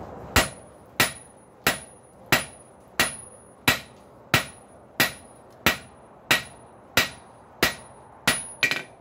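A hammer strikes the head of a rail spike on an anvil to flatten it, a steady series of about fourteen sharp metallic blows with ringing overtones, evenly spaced and close, with no talking.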